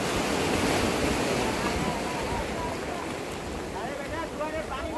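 Big sea waves roll in at Saint Martin island, a loud continuous surf roar with wind noise buffeting the microphone and a voice speaking over it.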